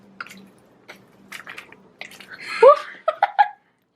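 Cold water is poured into brownie batter mix in a home kitchen late at night: a short, close splashing pour with wet squishy drips, preceded by soft scattered handling noises and faint voices.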